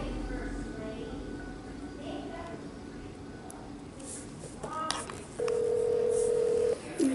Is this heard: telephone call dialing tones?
yes